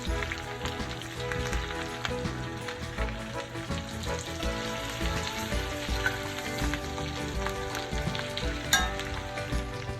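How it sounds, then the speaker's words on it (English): Salmon pan-seared over medium heat in a frying pan, a steady close crackling sizzle with scattered pops running throughout, heard alone. "I'm just gonna go ahead and flip my salmon."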